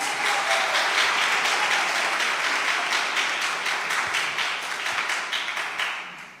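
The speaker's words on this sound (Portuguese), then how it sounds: "Pode aplaudir o Senhor" A large crowd applauding a graduate for several seconds, dense clapping that gradually fades toward the end.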